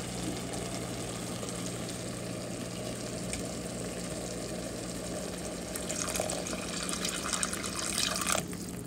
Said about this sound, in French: on va aller arroser avec de l'eau et laisser mijoter